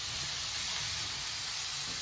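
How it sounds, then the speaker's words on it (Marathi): Grated carrot shallow frying in a pan for carrot halwa, a steady, even hiss and sizzle heard up close without a break and with no talking. "तुमचं गाजर जो किसलेला आहे तो त्याला फक्त एक शॅलो फ्राय म्हणतात तशा प्रकारे थोडस फ्राय करून घ्या"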